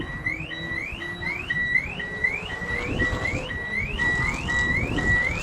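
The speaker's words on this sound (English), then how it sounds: "I'm glad someone else's alarm went off before mine did." A car alarm wails in repeating rising chirps at a distance at a JDM car meet, cycling steadily over a low background rumble, with no talking.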